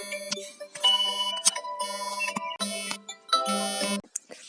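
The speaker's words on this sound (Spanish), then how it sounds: "no sé si ha sonado una alarma que tenía puesta" Phone alarm going off, a loud electronic melody of bright repeated tones in short bursts, close and without talk.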